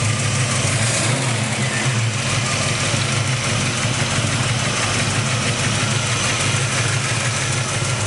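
A 1967 Chevy Nova's 327 V8 idles steadily up close, a dense continuous rumble with no revving and no voices over it.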